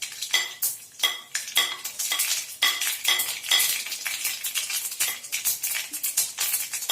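Mustard seeds dropped into hot oil for okra fry, crackling and popping with a spoon scraping and clinking against the pan, busy close kitchen sounds with no talk.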